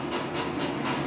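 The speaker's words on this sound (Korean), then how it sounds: "기차가 와요." A train rumbles and hisses steadily, with a faint rhythmic clatter over a loud continuous roar, heard alone and fairly close.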